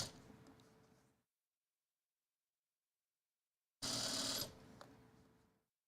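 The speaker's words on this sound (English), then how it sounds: "So that will manually run the machine for me." A home sewing machine runs in two short bursts, a quiet steady motor whir that stops, goes silent for a few seconds, then starts again louder before winding down.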